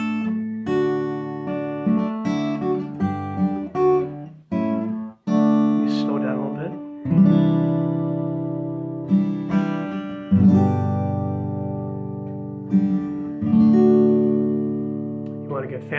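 Finger-picked acoustic guitar playing The Doxology in a lesson setting, clear plucked notes and ringing chords moving in a slow, steady hymn rhythm, close and alone.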